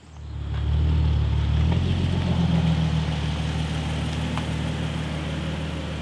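A Nissan Z idles and rolls slowly into a heavy-duty winter car shelter, its engine swelling from quiet to a steady, close rumble that holds and then eases slightly, with no talk.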